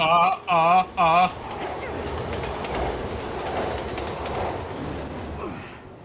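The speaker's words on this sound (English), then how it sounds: "Train." A subway train in the Resident Evil 6 video game sounds three loud horn blasts, then rumbles and rattles past in a long, steady clatter that fades at the end.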